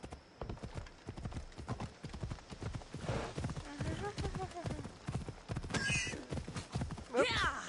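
Horse hooves clip-clop in a rapid, regular rhythm in Assassin's Creed Odyssey, close and prominent, with a horse whinnying twice partway through and people talking over the galloping.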